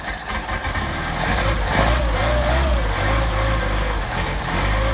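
A Mercedes 190SL with a Solex carburetor idles while still cold, a loud close engine rumble with a steady low pulse and a slight rise in pitch partway through, with no talking.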